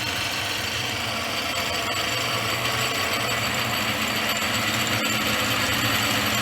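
A Raglan Little John Mk2 lathe runs on its belt drive with a steady mechanical hum and whir, close and constant, with faint ticks and no talking.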